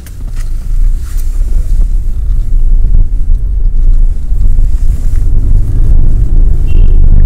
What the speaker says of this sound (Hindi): अभी देखिए मैं गाड़ी स्टार्ट किया हूँ